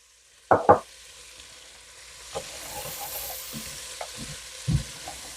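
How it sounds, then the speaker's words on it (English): Onions and tomato paste sauté in a pot for short ribs, two sharp spoon knocks up front, then a soft, steady sizzle with occasional light scrapes and clinks. "So we're going to saute and cook this down probably for about 10 minutes."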